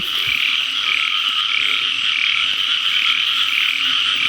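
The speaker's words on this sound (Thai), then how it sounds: "กบคู่ครับ" A pair of frogs croaking at night, a continuous loud nearby chorus of high buzzing trills pulsing steadily with faint background noise and no talk.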